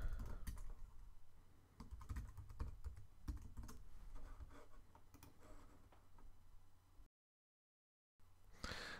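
Rapid, irregular keystrokes on a computer keyboard as a member name and password are entered, close and steady for about seven seconds, then a brief silence before a final burst of clicks.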